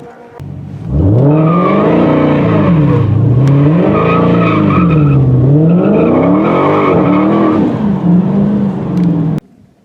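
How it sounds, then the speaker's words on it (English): A 2017 Dodge SRT Hellcat does a tire burnout, its engine revving up and down in loud repeated swells while the tires squeal and skid, heard close from inside the car for about eight seconds before cutting off. "So I think it's time we do a burnout."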